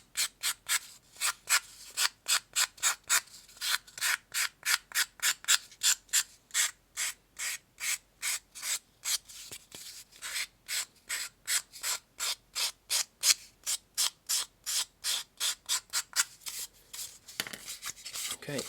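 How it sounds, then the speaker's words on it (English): A sanding stick rubs back and forth against the paper bead on a rib edge, a steady rapid series of close, raspy strokes with even rhythm throughout. "grab your sanding stick, and the sanding stick will sort of nibble off"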